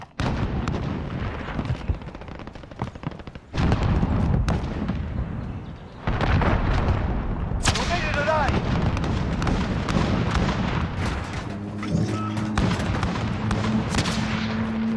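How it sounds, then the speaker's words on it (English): Cruise missile explosions and gunfire in the Call of Duty Warzone video game (Modern Warfare), with heavy booming blasts and dense crackling fire that fill the whole stretch loudly, while in-game voice callouts sound over the din. "Allied cruise missile away."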